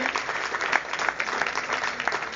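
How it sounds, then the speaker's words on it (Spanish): A church congregation gives the Lord a loud round of applause, many hands clapping in a dense, lively patter, near and steady for the whole stretch. "Un aplauso fuerte al Señor"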